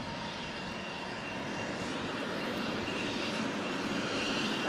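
An F-16 fighter jet engine at a deployed base in Afghanistan roars steadily, a loud sustained whine and rumble that holds through the stretch with no talk over it.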